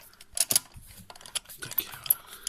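Ignition coil being screwed in by hand on a Peugeot 206 engine, small irregular clicks and ticks of the tool and metal parts, close and faint, with no talking.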